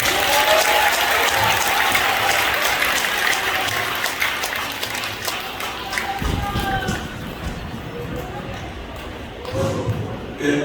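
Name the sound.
audience applause at press conference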